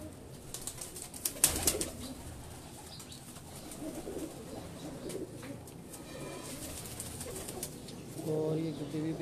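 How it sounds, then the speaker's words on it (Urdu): Pigeons on a rooftop loft coo softly with a few wing flaps, low rolling calls near and far, while someone talks over them in the background. "اور یہ نیچے بھی کچھ گھوم پھر رہے ہیں جی کبوتر"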